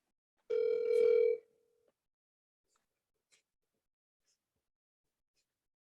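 Steady telephone dial tone heard once, close and clear, lasting about a second before a faint click and near silence while a call is placed.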